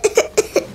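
Four short, sharp coughs from a person with a cold, close and loud, coming in an uneven rhythm of two quick coughs, a brief pause, then two more.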